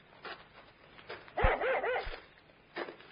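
A dog barks excitedly outdoors on a country road, a few sharp barks and yelps bunched near the middle, with a softer whimper at the end, in a muffled old radio-drama sound.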